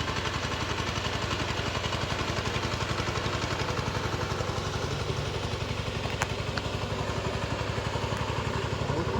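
A tractor engine runs steadily close by during rice paddy planting in Konkan, with a rapid, even thumping rhythm and a metallic clatter throughout.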